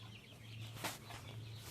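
A grey hen clucks once near a cage on a farm, a brief soft call over a steady low hum and outdoor background noise.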